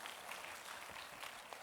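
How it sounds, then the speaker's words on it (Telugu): Audience applause at a church sermon: a steady, soft wash of many hands clapping, faint and distant, sustained through the short stretch with no speech over it. "కొట్టిన చప్పట్లు పర్లేదా"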